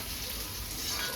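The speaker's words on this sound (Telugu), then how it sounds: "మంచిగా ఫ్రై చేసుకుందాం." Potatoes frying in a pan for an Andhra-style potato fry, a steady close sizzle with soft stirring, continuous and even throughout.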